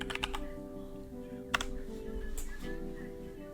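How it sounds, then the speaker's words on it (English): Keystrokes on a computer keyboard while entering text into a Word document, a quick burst of clicks at the start, a sharp tap midway and scattered presses later over a steady low background hum, close and fairly quiet. "I'm just typing it out in my Word document"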